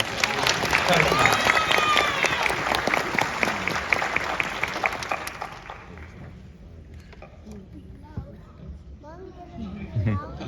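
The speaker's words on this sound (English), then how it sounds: "let's give a round of applause for Pat Morita" Loud applause from a comic convention panel audience fills the first half, then fades out as voices speak over the quieter room.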